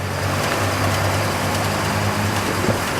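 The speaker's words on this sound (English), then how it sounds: "You can hear the motor's nice and quiet." A steady, low engine idle hums close by, smooth and quiet, with a faint constant background hiss and no voices.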